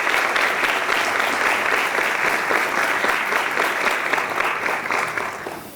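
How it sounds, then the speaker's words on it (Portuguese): An audience at a UFMG Talks event on fake news applauds steadily, a dense, even clapping that fills the whole stretch and tapers slightly at the end. "Por favor, professores, uma salva de palmas aí"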